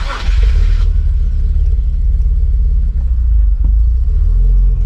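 A car engine fitted with bigger E85 fuel injectors runs roughly, with a loud, close, low rumbling idle that holds steady for several seconds after a brief burst of higher noise at the start.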